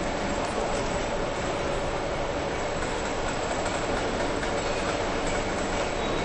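A perforated cable tray roll forming line runs steadily, with hydraulic decoiler, leveler, servo feeder, punch press and hydraulic pre-cut, making a dense, continuous mechanical roar with faint rhythmic clatter and no pauses.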